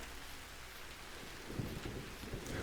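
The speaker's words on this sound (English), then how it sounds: "The rain has come." Rain in the video game Vintage Story, a faint steady wash of falling rain with a few soft low rumbles, no voices.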